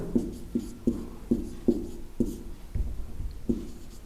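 Chalk or marker taps and strokes on a classroom board, about eight crisp evenly spaced knocks in a steady rhythm, close and fairly loud with no voice over them.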